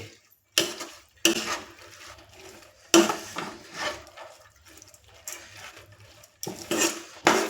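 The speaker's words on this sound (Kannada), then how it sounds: "ಈಗ ಇದಕ್ಕೆ ಚೆನ್ನಾಗಿ ಸ್ವಲ್ಪ ಫ್ರೈ ಮಾಡ್ಕೊಂಬಿಡೋಣ" Sprouted moong beans are fried and stirred in a pan for a palya. Bursts of scraping and rasping from the spatula against the pan come in irregular strokes with quiet gaps between them. No one talks.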